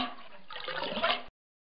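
A short burst of rushing, gurgling water draining away, swelling briefly before cutting off abruptly.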